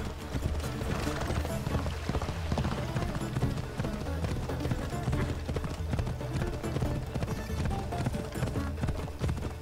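Horse hooves clip-clopping in the video game Assassin's Creed, a continuous rhythmic trotting patter mixed with in-game music and ambience, moderately loud throughout.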